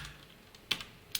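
A few sparse keystrokes tapped on a computer keyboard while writing CSS code: soft clicks, then two sharper, louder taps close together near the end, close up and with no voices.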